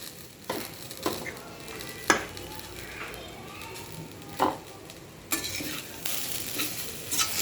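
Bitter gourd fry sizzles in a pan after spice powder goes in, with a continuous frying hiss broken by periodic scraping stirs, close and moderately loud.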